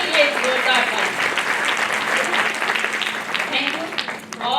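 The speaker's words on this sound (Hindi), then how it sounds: "तो मैं चाहती हूँ टीम के लिए एक जोरदार ताली।" Clapping from an audience at a recognition ceremony in Jamshedpur, a steady wash of applause for the team at moderate level, with voices faintly mixed in.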